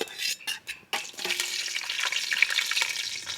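Chopped onions dropped into a hot pan with whole spices, sizzling steadily with scraping stirs and a few sharp clatters, close and fairly loud, no voices.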